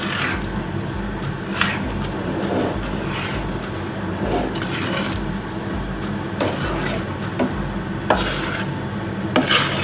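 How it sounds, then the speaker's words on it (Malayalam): Coconut, jaggery and ghee mixture being stirred in a pan, a continuous scraping and shuffling of the spoon with a soft sizzle underneath and repeated louder scrapes, no voices. "തേങ്ങയും ശർക്കരയും നെയ്യും കൂടെ ഉള്ള നല്ല മിക്സ് ചെയ്യാം"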